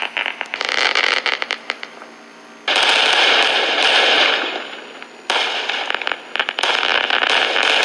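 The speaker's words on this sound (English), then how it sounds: "Keep looking at the fireworks." Fourth of July fireworks go off outdoors in dense, loud bursts of rapid crackling pops. They come in three surging waves separated by brief drops in intensity.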